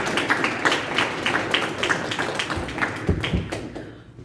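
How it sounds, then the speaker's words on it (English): A live audience claps in a round of applause at a motivational speaking event, dense overlapping hand claps at moderate distance, steady for several seconds before fading out. "Give him a round of applause, y'all"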